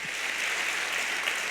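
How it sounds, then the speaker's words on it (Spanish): Audience applause welcoming a speaker at an international apologetics congress, a soft, even hiss of many hands clapping at a distance, brief and steady. "Recibamos con un fuerte aplauso al doctor Antonio Cruz Suárez."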